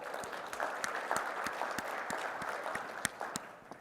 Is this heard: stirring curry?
no